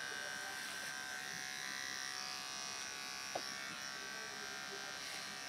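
Electric clippers hum steadily while trimming a dog's tail, a close, continuous buzz that never stops for the whole stretch.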